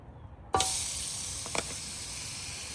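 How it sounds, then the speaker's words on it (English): A bone-in pork chop drops onto a hot suburban griddle, bursting into a loud, steady sizzle that holds at full strength with a brief crackle flare partway through. "let's see what happens when we sizzle this pork chop"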